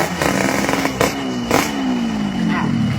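A motorcycle engine revs and drones nearby with rising and falling pitch, punctuated by a few sharp clattering knocks, while voices talk over it.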